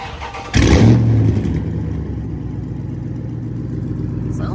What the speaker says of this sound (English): Let's get a little warm start for you guys. Catless 3-inch straight pipe.